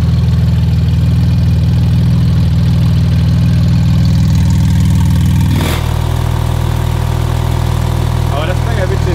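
A tuned 850 PS Porsche GT2 RS idles with its exhaust flap open, giving a loud, close, steady low rumble. The note dips slightly partway through, then continues evenly.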